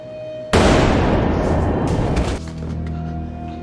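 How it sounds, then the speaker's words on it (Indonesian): A single sharp, loud blast bursts out abruptly and rings into a long, noisy decay that fades under a low background hum. "Cindy melepaskan tembakan lebih dulu untuk menghabisi Brand."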